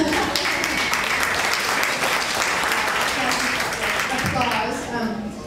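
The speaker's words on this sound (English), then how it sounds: "Applause." Sustained audience applause at a charity auction interview, a dense wash of clapping that holds steady and then tapers off at the end.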